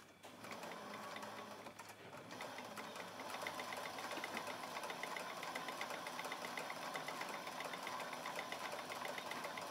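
Motor of a Cowboy 3200 sewing machine running steadily to wind a bobbin, a continuous whirring hum with a fast mechanical rattle, close and even throughout, no voices.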